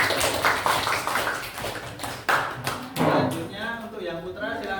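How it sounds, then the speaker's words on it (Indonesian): Students in a classroom clap for classmates after a presentation, a dense round of applause with scattered taps and voices chattering over it, steady and close throughout. "Bisa beri tepuk tangan untuk teman kalian yang presentasi"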